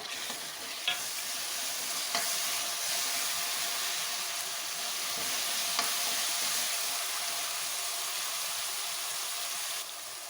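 Chopped tomatoes and green chillies frying with onions in a pan for a tinda curry, giving a steady broadband sizzle with a few faint stirring clicks, close and continuous, no talking.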